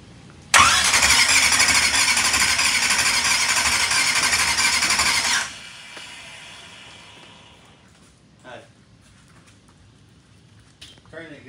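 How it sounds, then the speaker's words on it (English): A brand new racing engine on its very first startup cranks and catches into a loud, rough, steady roar up close, running about five seconds before cutting off abruptly, leaving faint rattles and brief sounds afterward. "This is the first startup of the brand new motor."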